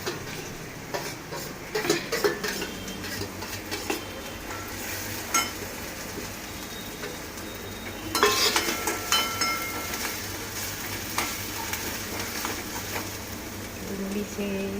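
Onion frying in a pan sizzles softly under intermittent stirring scrapes and metallic clinks of utensils, with a voice speaking at times.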